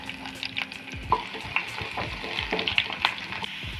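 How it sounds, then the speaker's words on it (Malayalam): Chopped small shallots fry in hot coconut oil, giving a steady close sizzle with quick spatula scrapes and stirs through it. "എണ്ണ ചൂടായി വന്നിട്ടുണ്ട്. അതിലേക്ക് ചെറിയ ഉള്ളി അരിഞ്ഞ് വെച്ചത്"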